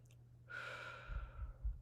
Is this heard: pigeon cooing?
no